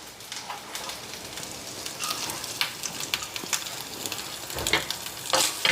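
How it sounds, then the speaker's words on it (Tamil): Small pieces of fresh coconut fry in a little ghee in a pan, a steady close hiss and crackle with scattered sharper pops and light stirring scrapes, no voices. "ஸோ கொஞ்சமாக நெய் விட்டு இந்த சின்ன சின்ன பல்லாக கட் பண்ணியிருக்கேன்ல அந்த தேங்காவை சேர்த்துக்கிறேன்."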